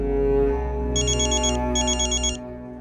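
A phone ringtone plays two bright, trilling bursts in quick succession over a fading low musical background.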